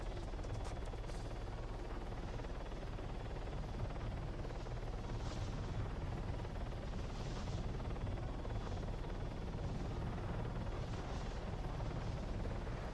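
Steady helicopter rotor drone from a flight video game, a continuous low hovering rumble that stays constant and loud throughout with no voices over it.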